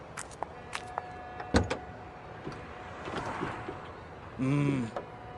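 A brand-new car's hood latch releases with light clicks and a sharp metallic clunk, followed by a few softer rattles and a brief mechanical whir at the end.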